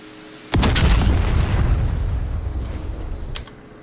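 A Vikhr missile from a Ka-50 Black Shark helicopter in DCS World strikes its target with one sudden heavy boom that rumbles and slowly fades, followed by a smaller distant pop near the end.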